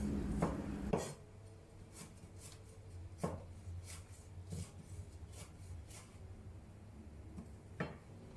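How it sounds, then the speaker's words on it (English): A knife chops chili into small sections on a cutting board, giving a run of soft, irregular taps over quiet kitchen background noise. "Cut the chili into small sections."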